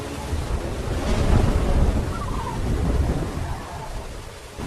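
A jungle thunderstorm with heavy rain, a dense continuous roar of downpour and rumbling thunder swelling and easing, loud and enveloping with no voices.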